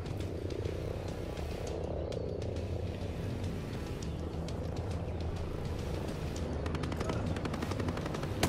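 Steady helicopter rotor chopping in the video game Ghost Recon Breakpoint drones throughout with rattling bursts of rapid gunfire layered on top, loud and continuous, growing busier near the end.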